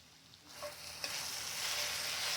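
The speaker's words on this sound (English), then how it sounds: "we got our meat browning. We just want to get it browned on each side." Steak browning in a hot pan, with a faint sizzle that swells into a loud, steady spitting hiss after a brief clink, heard close up with no talking.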